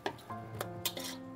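Sausage and shrimp go into a pan of frying spicy seafood mie goreng, giving quiet clinks and scrapes with a soft sizzle underneath over a second and a half.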